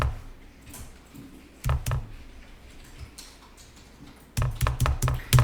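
Numbers are typed on a computer keyboard's numeric keypad: close, crisp key taps, first in two short clusters and then in a faster run of strokes near the end, with quiet room tone between.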